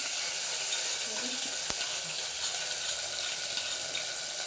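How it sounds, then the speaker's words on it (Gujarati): Ginger, green chili and garlic paste sizzles in hot oil with asafoetida for a spiced khichdi tempering, a steady close hiss with no talk over it. "પછી એમાં આપણે આદુ, મરચાં, લસણની પેસ્ટ નાખીશું"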